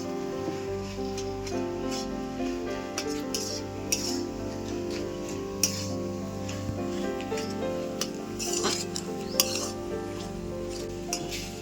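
A potato and vegetable mixture for vegetable chops is stir-fried in a pan with a roasted ground spice mix, producing a soft, constant sizzle with repeated spatula scrapes and occasional sharp metallic clinks.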